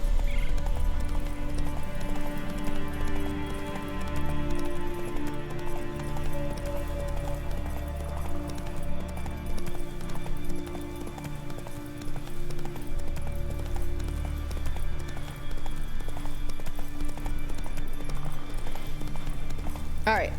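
Roach, Geralt's horse in The Witcher 3, gallops with steady, loud hoofbeats and repeated neighs and whinnies, the pounding rhythm running nearly unbroken throughout.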